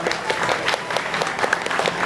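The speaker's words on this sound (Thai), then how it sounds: "ขอเสียงปรบมือต้อนรับกันอีกครั้งหนึ่งครับ" A crowd applauds with dense, continuous clapping, steady and lively throughout.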